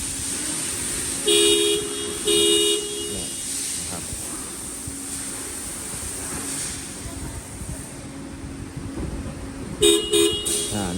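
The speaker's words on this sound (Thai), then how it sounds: "เวลาเรากดล็อกรถนะครับมันอาจจะมีเสียงดังขึ้นมานะครับ" Two short car horn chirps early on, then a pair of quick beeps near the end as the car alarm sounds on locking and unlocking with the remote, over steady outdoor hiss and traffic noise.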